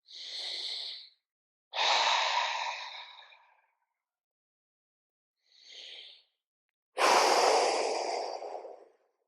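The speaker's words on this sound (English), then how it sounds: "Inhale into your ribs. Exhale. Like I said, 3 or 4 slow, deep breaths." Slow, deep breaths during a stretching and side-bending exercise: four long, breathy inhales and exhales separated by short silences, heard close and alone with no talking.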